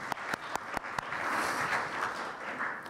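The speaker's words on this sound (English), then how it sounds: "I would like us to give them applause." Audience applause at a journalism conference closing session, several loud distinct claps up front then a steady wash of clapping from the room that continues evenly to the end.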